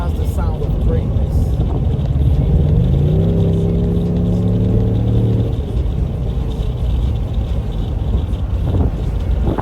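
A Ford Mustang engine rumbles steadily while driving on a highway, swelling into a rising rev midway before settling back under constant road and wind noise.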